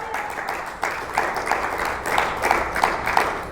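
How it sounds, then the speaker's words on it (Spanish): A worshipping congregation claps at length, the applause rising in uneven rhythmic bursts, with no speech standing out above it. "Fuerte el aplauso a la gloria de Dios."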